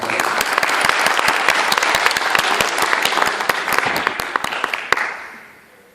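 Audience at an inter-school university debate in Chiclayo breaks into close, dense applause with sharp individual claps, which fades out over the last second.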